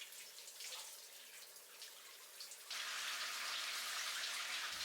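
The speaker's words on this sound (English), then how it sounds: "I'm going to go ahead and rinse my skin off." Shower water runs and splashes while skin is rinsed off, a steady close spray that grows louder and brighter partway through, with no talk over it.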